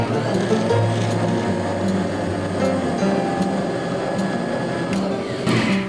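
A large-capacity electric stand mixer churns pumpkin chocolate chip cookie dough with spice, a steady close motor hum with a rhythmic grinding whir running unbroken throughout.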